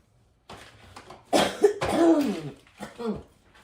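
A few harsh coughs and throat-clearing bursts from someone close by, broken by short pauses.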